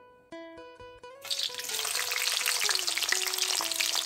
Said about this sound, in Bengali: ডুমো করে কাটা পেঁয়াজ আর ক্যাপসিকাম হালকা করে ভেজে আমি তুলে রাখবো